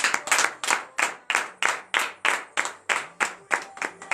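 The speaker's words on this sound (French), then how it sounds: "Donne-lui de vive acclamation ce matin." A church congregation at morning prayer claps in unison, a loud, even rhythm of about a dozen sharp claps with no talk.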